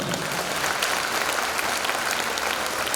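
Dense, steady applause from a large audience at a Jain religious katha discourse, the fourth day of the Rishabh Katha at Kesariyaji, sustained and even from start to finish with no voices standing out.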